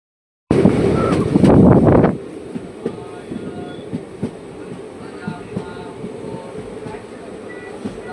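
A passenger train on the Chowrigacha to Azimganj line starts with a loud burst of noise, then settles into a steady rumbling run with regular clicks and knocks from the wheels on the rail joints.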